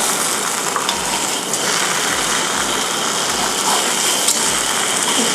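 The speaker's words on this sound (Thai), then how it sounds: "เดี๋ยวขั้นตอนต่อไปเราจะมาทอดเบคอนกันค่ะ" Steady broadband sizzling and crackling of bacon frying in a hot pan, continuous and close with no talking.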